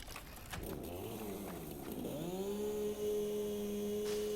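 A chainsaw in the video game Satisfactory revs up with a wavering, pitch-sliding whine, then settles into a steady, loud buzzing drone as it cuts through wood.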